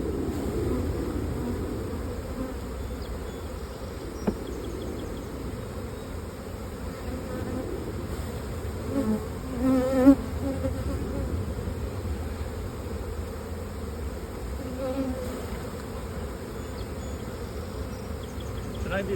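A steady drone of many honey bees buzzing around a hive, continuous and close, with a slightly louder swell partway through.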